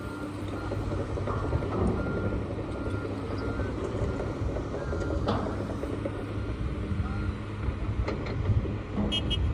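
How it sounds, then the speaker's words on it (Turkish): A truck unloads fill material at seaside construction work for sea filling, heard as a steady rumble of engines and machinery with scattered clanks and faint beeps, continuous and moderately distant. "Kamyon malzemeyi boşaltma oraya."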